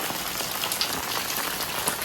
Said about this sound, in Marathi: पाऊस पण मस्त चालू आहे